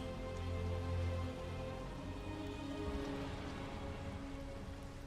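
Steady rain in Detroit: Become Human, a dense, even hiss of falling drops that fills the whole stretch at moderate volume, with no talk.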